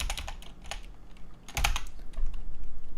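Typing on a computer keyboard, with bursts of quick key clicks in short clusters and a louder clatter partway through, close by with no talking.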